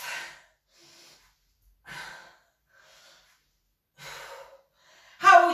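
Heavy, gasping breaths from someone doing an ab workout, spaced about a second apart with a sharper, louder exhale at the end, close and alone with no talking.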